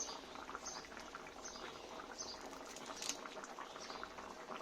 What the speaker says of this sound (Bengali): এবার ঝোলটা ফুটতে থাকবে